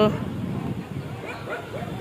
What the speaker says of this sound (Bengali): ওই দেখেন কুকুরগুলো